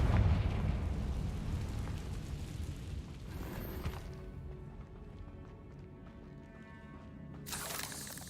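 A Confringo blasting spell erupts in Hogwarts Legacy with a loud, rumbling explosion that starts right away, then rolls and crackles into a fading roar with debris, before a brief sharp burst near the end.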